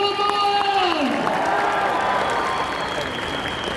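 An audience at a corporate company event claps together in a loud, sustained burst of applause with crowd noise, while a drawn-out electronic tone sweeps downward and fades beneath it.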